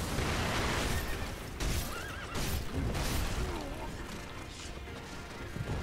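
A horse in the Sekiro: Shadows Die Twice boss fight against Gyoubu whinnies several times over a dense backdrop of battle clatter and hoofbeats, loud and close throughout.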